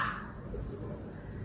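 A pigeon gives a brief, low coo outdoors near a home, soft and close, set against faint ambient noise.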